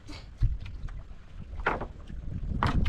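A small boat moving on water, with wind buffeting the microphone and a few splashes and knocks; a steady low rumble runs throughout with no talking.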